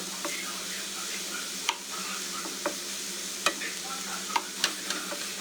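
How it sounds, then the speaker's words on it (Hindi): Tomato omelet mixture sizzles steadily as it fries in a non-stick pan with a little oil, with a few sharp spatula scrapes and taps of stirring standing out over the constant hiss. "इसको हम ट्रांसपेरेंट होने तक इसको फ्राई करेंगे"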